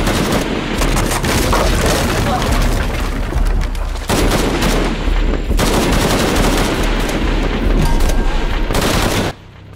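Dense, continuous gunfire from the Shadow of the Tomb Raider video game, rapid automatic bursts and booming shots layered loudly for several seconds before cutting off abruptly near the end.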